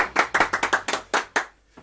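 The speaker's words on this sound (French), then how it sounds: "Applaudissements chez vous." A few hands clapping at a Warhammer championship broadcast, a quick run of about nine close, sharp claps with a short pause before a final faint one, no talking.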